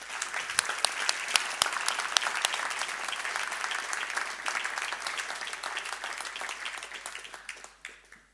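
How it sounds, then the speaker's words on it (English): A crowd at a charity foundation event breaks into sustained applause, many hands clapping densely and evenly for around eight seconds before trailing off at the end. "I would like a great applaud for your contribution."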